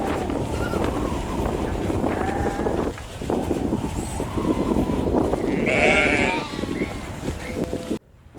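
A herd of sheep bleats repeatedly during a seasonal migration toward lower winter pastures in the mountains of China. The calls are loud and overlapping over steady wind noise, and the sound cuts off abruptly at the end.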